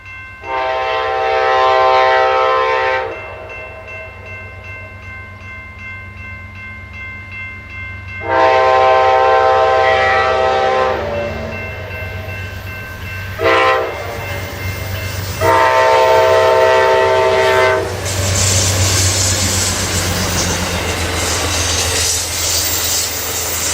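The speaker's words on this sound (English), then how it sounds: "Following another station stop, Amtrak's Coast Starlight rolls out of Kelso, Washington, and through the neighborhood of Rocky Point." Amtrak's Coast Starlight, Train 14, pulling out of Kelso, Washington, through the Rocky Point neighborhood: several loud, long horn blasts separated by pauses, over a continuous low rumble of the passing train.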